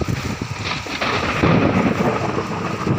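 Thunder rolls in a storm in Phayao, Thailand, a loud, rumbling swell that builds and lingers over a steady wash of wind and rain, with no voices.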